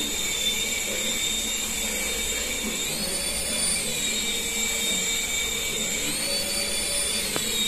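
A small toy remote-control helicopter motor whines steadily at a high pitch, its tone rising and falling as the throttle goes up and down. The sound is continuous and fairly close, with no talking.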